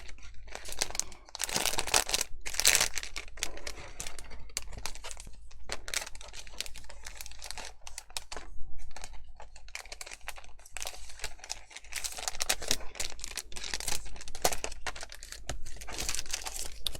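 A papercraft kit and bone folder being slid back into plastic packaging, with continuous close crinkling, rustling and crackling of film and card, irregular bursts throughout and no talking.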